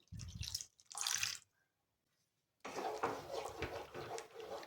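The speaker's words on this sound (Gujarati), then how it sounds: "હવે આપણે એમાં થોડું પાણી ઉમેરી દઈશું" Water pours into a pot of tomato soup in two short bursts, then after a silent pause a longer, steady splashing pour continues.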